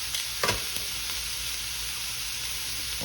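Shrimp cook in a hot pan with a steady, moderate sizzle, broken by a couple of brief scraping knocks as they are moved around.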